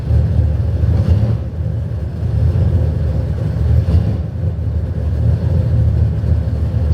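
A Chevrolet Silverado engine idles in gear on a dyno, giving a loud, steady low rumble that holds evenly throughout with slight surges.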